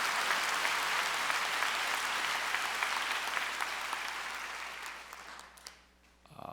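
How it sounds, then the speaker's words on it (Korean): A church congregation gives the Lord a big round of applause, dense sustained clapping filling the hall before thinning and fading out near the end. "우리 하나님께 큰 박수 올려 돌리십시다"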